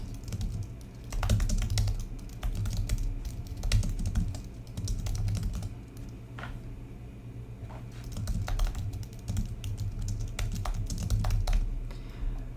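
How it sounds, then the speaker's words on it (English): Fast, uneven typing on a computer keyboard, bursts of close clicking keystrokes with brief pauses, over a low steady hum and no talk. "I'm going to just go ahead and type everything out."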